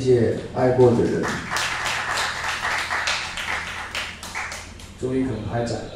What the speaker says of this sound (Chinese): 谢谢你们的掌声